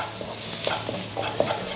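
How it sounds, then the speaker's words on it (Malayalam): A spoon scrapes and stirs a spiced tomato-onion masala with turmeric, Kashmiri chilli and pepper powders in a pan, giving soft repeated strokes over a faint sizzle, close and without talk. "ഇത് നന്നായിട്ടൊന്ന് മിക്സ് ആക്കാം."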